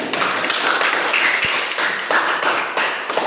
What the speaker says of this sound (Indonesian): tepuk tangan untuk Ustaz